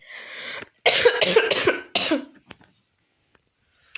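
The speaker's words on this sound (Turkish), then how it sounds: "Arkadaşlar öksürüyorum. Kusura bakmayın." One person coughs hard in a quick series of close, raspy bursts while playing Dream League Soccer, then the sound trails off into near silence with a few faint clicks.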